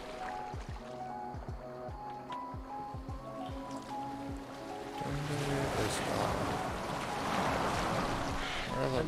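A boat moving on water in a Viking setting, with lapping waves and splashing that swell louder in the second half over a steady layer of sustained background tones.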